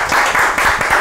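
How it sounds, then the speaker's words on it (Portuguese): Audience applause at a live comedy roast show, a steady dense wash of clapping with no gaps, loud and close, over about a second with no talk. "Palmas!"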